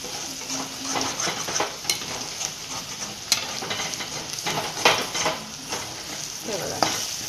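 Chopped onions fry in a pan for a dhaba-style whole masoor dal, a dense, continuous sizzle broken by irregular scrapes and clicks of a stirring spoon, close and fairly loud.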